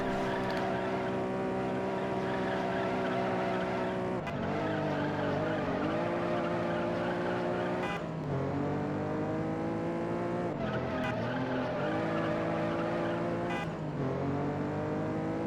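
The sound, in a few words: NSX car racing and skidding in Juiced video game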